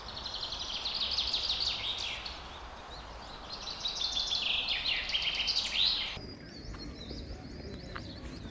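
Many birds chirping and calling together inside a large aviary at Lake View Park, Islamabad, dense overlapping tweets nearby that drop to sparser calls near the end.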